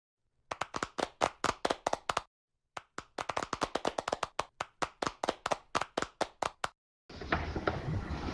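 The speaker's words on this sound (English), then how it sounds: "Ladies and gentlemen, a warm round of applause for Mrs." At a symposium welcome for an ambassador, crisp individual claps sound in a fast, even rhythm, break off briefly, resume, and then give way to a wash of broadband noise.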